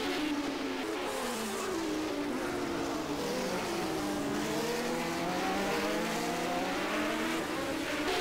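Race car engines from the F1 video game at 1974 Long Beach rise and fall in pitch as several cars rev through the Queen's hairpin, a steady, close, loud drone with overlapping engine notes.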